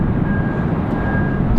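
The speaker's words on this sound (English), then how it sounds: "Fighter jet flying over." Fighter jet passing over Raleigh Durham International Airport, a loud continuous broadband roar that swells slightly toward the end.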